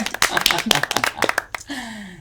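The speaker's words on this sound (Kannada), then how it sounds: "ಸೂಪರ್, ಬಲಿ ಚಪ್ಪಾಳೆ." Scattered hand claps ring out in a studio game show, brief and close, cheering a mother-in-law who pulled out twelve sticks in sixty seconds, followed by a short tonal flourish.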